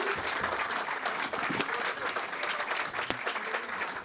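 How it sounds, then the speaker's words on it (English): Press-conference audience applauding boxer Conor Benn after his defeat to Chris Eubank, a loud, dense burst of clapping that stays close and constant throughout, with scattered sharper claps poking out. "Ladies and gentlemen, once again, round of applause for Conor Benn."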